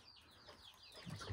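Egg-laying hen on a farm clucking, a few soft, faint clucks near the microphone with rustling, the last one louder.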